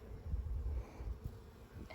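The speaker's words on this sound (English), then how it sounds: "There's lots of bees." Bees buzz around an open, heavily populated hive of deep boxes, a close, low, steady drone that wavers in loudness.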